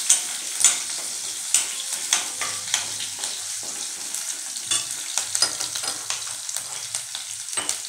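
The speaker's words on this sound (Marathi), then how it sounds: "हिरवी मिरची व्यवस्थित कलसून घ्यायची." Green chillies sizzle in hot oil in a pan for a dry cabbage bhaji, a busy crackling fry broken by repeated sharp spatters and stirring scrapes, close and fairly loud with no talking.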